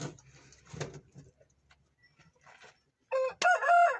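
Faint scuffling and low background noise, then an Indian breed rooster crows once, loud and close, at the very end.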